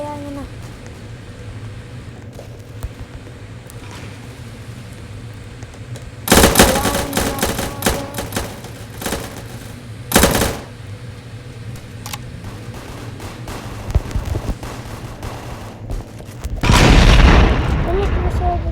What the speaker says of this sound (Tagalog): Ano pinasabog tayo guys?